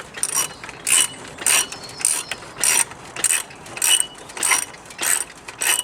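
Repeated ratcheting clicks of a spring compressor being tightened on a coil-over shock absorber, in regular bursts about every half second, close and fairly loud with no talk.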